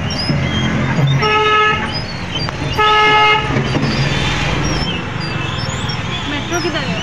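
Heavy street traffic in Silchar, India rumbles steadily while car horns honk twice in sustained blasts, with more brief toots in the background.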